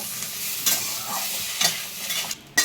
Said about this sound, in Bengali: এখানে সবজি ভাজা